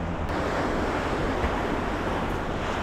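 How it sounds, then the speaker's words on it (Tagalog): Ocean surf washes steadily onto the shore, a dense continuous roar of breaking waves with some wind rushing across the microphone, close and loud throughout. "Ay, sarap ng tunog ng alon, pagaspas ng alon."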